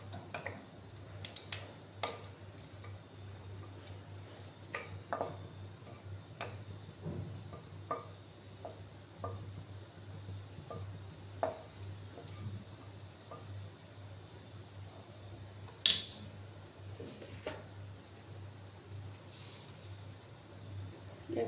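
Black mustard seeds, a torn bay leaf and dried red chillies in hot oil for tempering give faint, sparse pops and ticks over a low steady hum.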